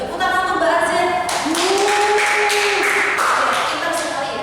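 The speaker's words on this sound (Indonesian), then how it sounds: "Tepuk tangan untuk Mbak Aziz." A sociology microteaching class claps: after a short voiced moment, a run of clear hand claps rings out, close and fairly loud, with talk mixed in.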